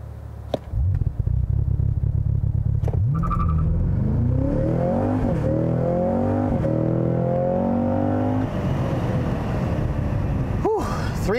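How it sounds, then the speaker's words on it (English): A 2022 Cadillac CT5-V Blackwing V8 with a manual gearbox launches hard under launch control, its engine roaring up through several rising gear pulls with shift breaks. A brief voice cuts in near the end. "Try the launch control one more time, shall we?"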